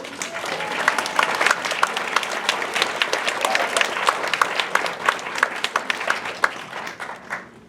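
An audience gives Berlina a sustained round of applause, dense crowd clapping that rises quickly and stays loud and steady throughout, with sharp individual claps standing out and faint voices mixed in before tapering at the end.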